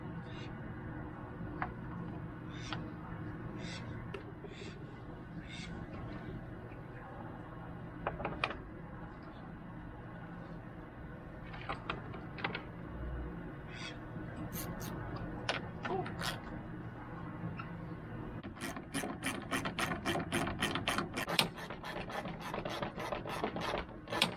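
A ratchet tightens bolts while a Ford F-150 headlight is reinstalled, giving scattered clicking and rasping bursts over a low background hum, with quick repeated ratcheting clicks growing denser toward the end.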